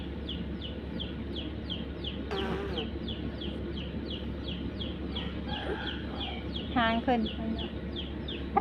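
Fighting cocks cluck and call repeatedly at a cockfight, with a sharper burst of crowing near the end, over a steady dense background of chirping birds and a low hum, while a voice speaks.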